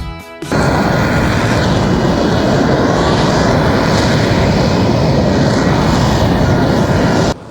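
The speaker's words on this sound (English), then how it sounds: "seeing the F-35B hovering in the air at the Miami Air Show last weekend left me completely amazed" An F-35B fighter jet hovers at the Miami Air Show, its engine a loud, continuous, broadband roar that starts abruptly and holds steady throughout.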